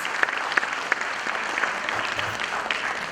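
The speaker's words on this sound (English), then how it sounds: "I think you also deserve a round of applause." Parents at a school annual function receive a burst of applause from the audience, dense and continuous clapping that holds steady for a few seconds with no voices over it.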